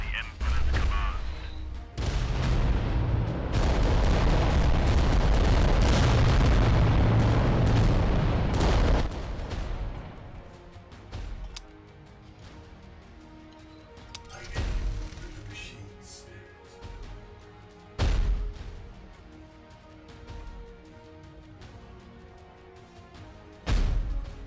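Volcano cannons fire in the video game Adeptus Titanicus: Dominus, a long roaring blast swelling and booming for several seconds, followed by scattered heavy impacts and booms over a game soundtrack.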